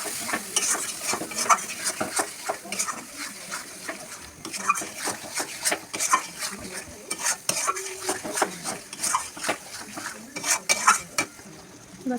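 Ginger paste masala being sautéed in a pan, a spoon scraping and clanking against the metal in quick repeated strokes over a low sizzle, close and fairly loud.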